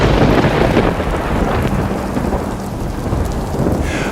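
Heavy rain pours steadily with rumbling thunder rolling underneath, a loud, dense storm sound effect for a horror story, with no voices present.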